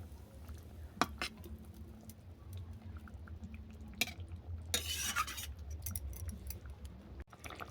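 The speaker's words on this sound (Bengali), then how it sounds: "এটাকে নেড়ে ছেড়ে আরও 1 মিনিট রান্না করে নেব।" A rohu fish and bottle gourd curry stirred in a pot with magic masala added, soft scraping and occasional clinks of a spoon over a low simmering bubble, fairly quiet and close.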